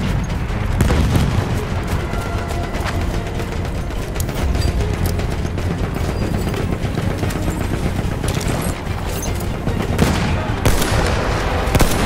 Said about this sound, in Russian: Ловите гранату!